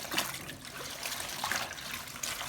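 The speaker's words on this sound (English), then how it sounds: "just pour you a little bit of vinegar." Vinegar trickles from a container into a bowl of water for soaking garden collard greens, a faint, close, uneven splashing and dribbling.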